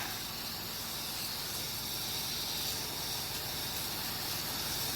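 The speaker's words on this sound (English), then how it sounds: "we're going to start spraying shaving cream" A continuous airy hiss of shaving cream spraying from a can, steady and fairly quiet, running without pause for the whole stretch.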